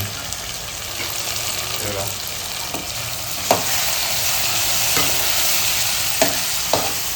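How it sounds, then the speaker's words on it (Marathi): Chopped onion tempering in hot oil for a surmai fish curry, a steady loud sizzle throughout with a few sharp clicks of a stirring spoon against the pan. "कांद्याची फोडणी"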